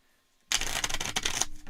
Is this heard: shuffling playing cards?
yes